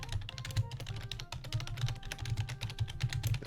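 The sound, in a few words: typing on a computer keyboard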